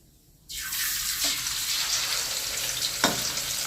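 Pieces of frog meat drop into hot oil for garlic-pepper fried frog, bursting into a loud, steady close sizzle that continues throughout, with a couple of brief knocks of a utensil.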